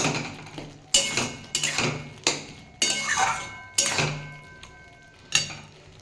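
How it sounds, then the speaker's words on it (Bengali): A metal spatula presses and mashes tomato and lentil dal in a pot, giving a series of sharp clanks and scrapes against the metal at an uneven pace, close and distinct, with no talking. "খুন্তির সাহায্যে এরকম চেপে দিলেই এটা নরম নরম হয়ে গেছে"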